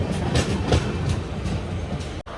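An Intercity Express train on the Tirupati to Tiruvannamalai line pulls away from Chandragiri station with a steady, close rumble and regular clickety-clack of wheels over rail joints, continuous throughout with a brief dropout near the end and no talking.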